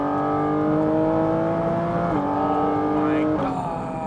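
A Porsche 911 GT4 RS with the Weissach package revs hard up to 6,800 rpm through three gears, its flat-six rising in pitch between two quick upshifts that drop the tone each time, loud and close throughout.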